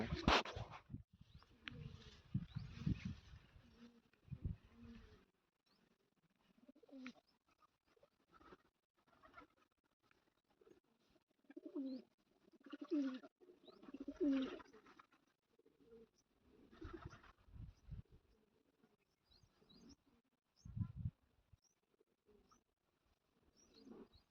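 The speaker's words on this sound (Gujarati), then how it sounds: "મિત્રો અમારી વાડીએ કબૂતરા પણ આવે છે" Pigeons coo at a farm in low, soft, repeated calls. The calls come in clusters, with some faint scuffling and distant voices between them.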